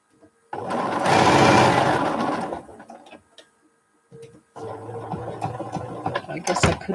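A sewing machine runs in two bursts while stitching quilt block pieces for a Jacob's Ladder block: a loud, steady whirring run for about two seconds, a pause, then a second, longer run, with a faint voice in between.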